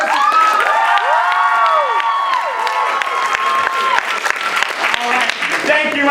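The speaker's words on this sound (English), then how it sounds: "your clapping doesn't matter" Audience clapping and cheering at a comedic stage show, loud and sustained, with whoops and high shouted voices riding over the applause from start to finish.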